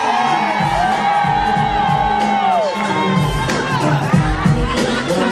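A comedy club crowd in New York cheers and whoops loudly and steadily, many voices shouting together in a dense, sustained roar with rising whoops near the end.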